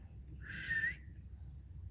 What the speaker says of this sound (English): Oh, I whistled.